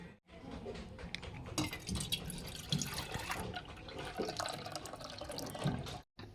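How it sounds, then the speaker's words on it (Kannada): Milk from a cut one-litre plastic packet pours into a pot in a steady liquid stream, with a few faint clinks near the end. "ಇವಾಗ ಇದು ಹರಿದು ಇದ್ರೊಳಗೆ ಹಾಕ್ಕೊಳ್ಳೋಣ ರೀ ಹಾಲು"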